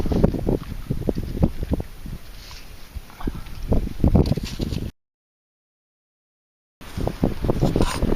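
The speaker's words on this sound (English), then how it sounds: "Sorry about the wind, but it's a very windy and cool day today." Gusty wind buffets the microphone in rough, rumbling bursts while metal detecting in a Wisconsin field on a windy, cool day, cutting to total silence partway through before the blustery noise returns.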